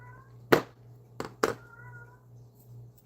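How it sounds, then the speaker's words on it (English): A kitten meows three times in quick, short, fairly close calls, each followed by a pause, over a faint steady background hum. "Why are you singing the song of your people, kitten?"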